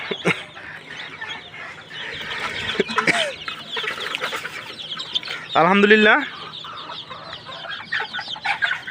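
Desi chickens and chicks on a farm cluck and cheep close by, with sharp peeps and a louder squawking burst in the middle, while a person speaks briefly.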